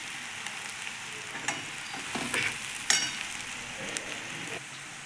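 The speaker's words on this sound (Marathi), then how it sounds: "त्याच्यामुळे छान कांदा भाजून घ्यायचा तेलामध्ये, म्हणून सोनेरी रंग येईपर्यंत कांदा भाजायचा।" Onions frying in oil until golden for a spicy onion chutney, a steady close sizzle with a few brief stirring scrapes and spatula clicks, no voices.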